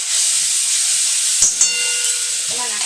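Water splashed into a hot tempering of asafoetida, curry leaves and ground green chilli with garlic hisses loudly and steadily close by, with a couple of sharp sputters partway through.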